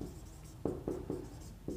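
Marker or chalk strokes on a board during an organic chemistry lecture, four or five short distinct taps and scrapes over a quiet room, faint and close, with no talk.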